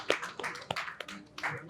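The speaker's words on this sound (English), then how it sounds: "Let's give her a round of applause" A small round of audience applause for a chairperson at a Nigerian business event, with a few scattered claps in short uneven bursts rather than a full ovation.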